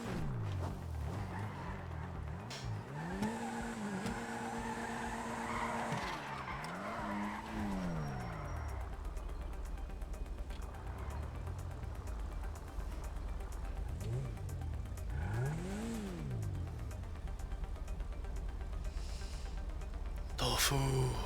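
A game car in FiveM drifts hard, its tires skidding and squealing in repeated swooping bursts over a steady engine drone, loud and up close for the whole stretch.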